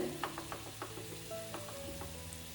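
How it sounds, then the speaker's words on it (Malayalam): About two tablespoons of tamarind water hit a pan of mashed tomato masala frying in oil, giving a burst of crackling sizzle with a few sharp pops up front, then a steady simmering hiss. "തക്കാളിയൊക്കെ നന്നായിട്ട് കുത്തി ഉടച്ചതിന് ശേഷം ഇതിലോട്ട് 2 ടേബിൾ സ്പൂണോളം പുളിവെള്ളമാണ് കേട്ടോ ഒഴിച്ച് കൊടുക്കുന്നത്"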